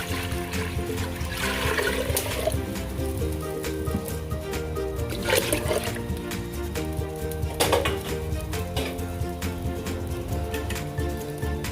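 Water is poured into a pot to make the braising sauce for Thai-style stewed pork leg, a steady splashing pour running throughout over background music in a home kitchen.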